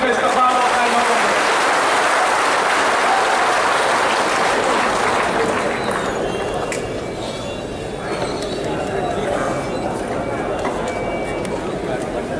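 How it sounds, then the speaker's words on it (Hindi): An audience in a large hall gives sustained, dense applause welcoming a minister at an Urdu celebration event. The clapping is loud at first and eases slightly toward the end, with a voice speaking over it. "आइए एक बार फिर तालियों की गड़गड़ाहट से उनका इस्तकबाल और खैर मकदम।"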